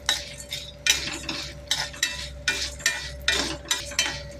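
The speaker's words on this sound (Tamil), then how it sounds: "அப்புறம் ஒரு 4-5 பல் பூண்டு, கொஞ்சம் புளி, வரமிளகாய் இதை வந்து நம்ம போட்டு வதக்கலாம்." Garlic cloves, tamarind and dried red chillies being sautéed in a pan, with repeated scraping and stirring strokes of a spoon against the metal over a faint sizzle, no talking.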